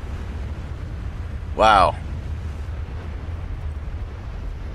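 Corpses bursting during an emission in S.T.A.L.K.E.R.: Call of Pripyat, a single short, loud, warbling explosive burst over a low steady rumble, with a voice reacting around it.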